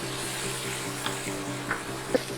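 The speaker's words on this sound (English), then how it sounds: "Now into this we'll add finely diced paneer and capsicum. We'll just cook this for a few minutes." Diced paneer and capsicum fry in oil in a pan with a steady, even sizzle throughout, broken by a few faint clicks and one sharper tap near the end.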